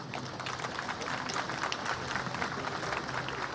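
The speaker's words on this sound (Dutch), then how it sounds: "Een applaus voor u allen." Applause from a crowd gathered outdoors at a national commemoration, steady clapping held at a moderate, slightly distant level for the whole stretch, with faint murmur mixed in.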